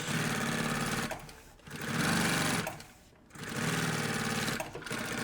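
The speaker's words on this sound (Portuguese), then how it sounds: "Faço uma costura em cima e uma costura embaixo." A sewing machine runs in three sustained bursts, stitching a strap onto a puffer backpack, its steady whirring motor separated by brief pauses.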